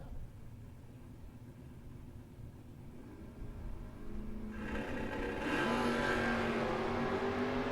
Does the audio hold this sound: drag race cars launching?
yes